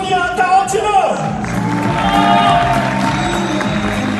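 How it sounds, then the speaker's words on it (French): A competition audience at a bodybuilding show cheers, whoops and applauds for competitor Sonia Tarantino, a lively crowd roar that swells and holds steady after a short burst of shouting. "On l'applaudit bien fort s'il vous plaît, Sonia"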